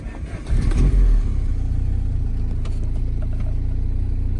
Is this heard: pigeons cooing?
no